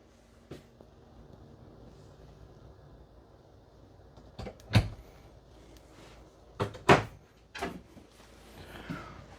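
Medicine cabinet door in a 2024 Salem Hemisphere 270FKS travel trailer bathroom being opened and closed, several sharp wooden knocks and clacks at intervals, close and fairly loud against a quiet room, with no voices.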